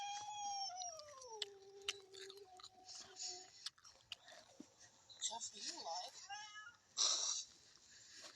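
A cat gives a drawn-out falling meow, then more short meows and chirps mixed with chewing noises and some voices, close and quiet in a home.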